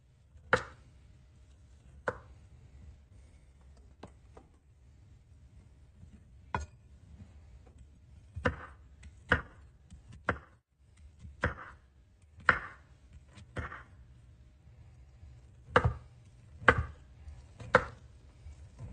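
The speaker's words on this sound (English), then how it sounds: "I gotta cut up 2 whole onions, too." A knife chops onions on a board in irregular, distinct thuds, sparse at first and then clustering into quicker bursts toward the end, close and fairly quiet with no talking.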